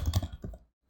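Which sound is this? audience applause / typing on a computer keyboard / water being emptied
typing on a computer keyboard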